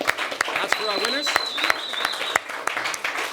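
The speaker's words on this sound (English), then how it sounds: "One last final round of applause." An audience claps for the winners at the close of an awards event, a dense round of applause heard up close, with a voice talking over it and a brief whistle-like tone drifting through.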